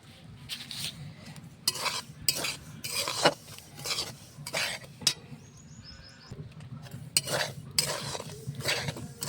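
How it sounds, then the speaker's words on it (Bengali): Semolina being roasted in a pan, stirred with a utensil that gives repeated scraping and clinking strokes in an irregular rhythm over a soft background, close and moderately quiet. "সুজিটা সুন্দর করে ভাজা হয়ে গেছে"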